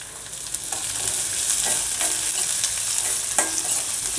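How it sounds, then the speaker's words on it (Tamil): Garlic, curry leaves and onion frying in a pan for an ivy gourd dish, a continuous close sizzle with intermittent stirring scrapes throughout, no talking. "கருவேப்பிலை பொரிஞ்சா விட்டு பூண்டு, கட் பண்ணி எடுத்து வச்சுட்டுருக்கிற வெங்காயம் இதையும் சேர்த்து நல்லா வதக்கி எடுத்துக்கலாம்"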